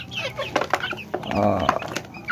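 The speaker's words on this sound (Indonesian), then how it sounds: "terlihat ayam begitu lahap menyantap" Chickens eating organic vegetable-based feed cluck and chatter close by in short, busy bursts, with scattered pecking-like clicks in between.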